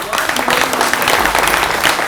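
An audience at an SME mentorship programme celebration night claps in a dense, loud, steady burst of applause for about two seconds.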